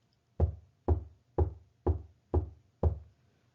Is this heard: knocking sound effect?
yes